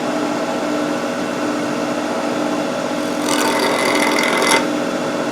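A safety planer mounted in a drill press spins with a steady hum, then bites into wood for about a second and a half, a bright rasping cut before the tone settles back to the idle spin.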